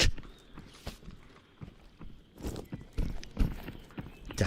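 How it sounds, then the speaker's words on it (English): Footsteps in the video game Contractors, a series of irregular thudding steps that grow denser and louder toward the end, heard alone without talk. "Definitely heard footsteps over there."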